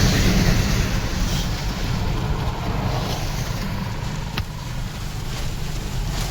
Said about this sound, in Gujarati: કઈ ઓછો વરસાદ નથી થતો જોવો તમે